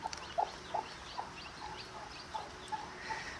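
A hen sits with her seven newly hatched chicks, making sparse, short clucking and peeping calls spaced irregularly over a soft background hiss, heard fairly close but quietly.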